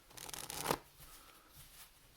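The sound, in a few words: shuffling playing cards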